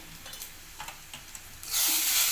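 Curry leaf powder and turmeric hitting hot oil for tomato rasam, a few faint stirring scrapes and then a sudden bright sizzle that swells and holds to the end.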